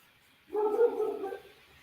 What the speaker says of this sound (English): we got a barking dog in the background